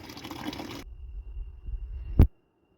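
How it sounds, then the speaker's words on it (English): Water trickles out of an underground main water valve pipe into a small bucket, a brief rushing pour that thins to a faint dribble, ending in a single sharp splash or knock before silence. "So the water is going to have to drip out of here. And we're going to catch it in this little bucket here."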